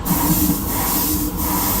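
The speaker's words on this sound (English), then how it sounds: "just spraying it like this, I'm kind of wasting it" Steady, close airbrush hiss while base coating Greek style vases with paint, continuous and fairly loud with slight dips, no voices.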